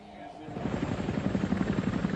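A flight of Cobra helicopter gunships lifts off from a makeshift airbase near the Kuwaiti border during the Gulf War, the steady thudding rotor chop loud and continuous, with a voice speaking over it.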